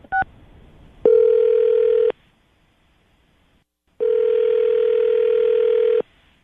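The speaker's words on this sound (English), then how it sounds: "Lily, we're about to call Mark and see if we can get him on the phone" A quick beep of dialed tones, then two long steady ringback tones separated by silence, as an outgoing phone call rings through.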